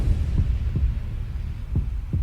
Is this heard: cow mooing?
no